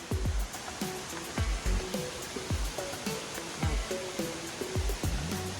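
Fuller Falls on the Fundy Trail gives off a steady rushing roar in the background, while short chirping calls repeat over it every second or so.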